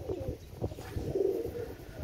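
Teddy pigeons, a KTM Teddy hen and a Teddy 128 cock, coo softly nearby in a few low, rolling calls, with faint background noise.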